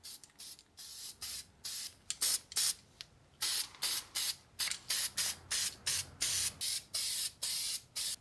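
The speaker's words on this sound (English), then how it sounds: "I'm also going to be just using the rust encapsulator on this caliper" Rust encapsulator sprays from an aerosol can onto a brake caliper of a 1997 Ford F-150 in a series of short, close, hissing bursts, speeding into a regular on-off rhythm.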